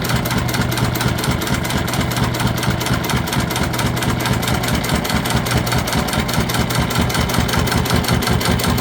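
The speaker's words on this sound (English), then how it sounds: "We're sewing at a 1/4 inch seam allowance. just make sure you back stitch." Sewing machine stitching a quarter-inch seam on sticky clear vinyl for a pouch, a loud, fast, even mechanical whir with steady rapid needle pulses running without pause.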